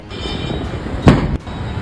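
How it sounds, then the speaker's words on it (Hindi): A gas cylinder explodes at Brahma Market in Greater Noida, a sharp, loud blast bursting out of a noisy outdoor background and lasting about a quarter second. "जब ये आग लगी, सिलेंडर फटा, किस तरीके से धमाका उस वक्त मौके पर हुआ"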